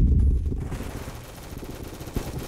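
Rapid gunfire from a heavy-recoil gun in a Roblox shooting game, a loud dense burst at the start that trails off into a steady rattle of shots and game noise.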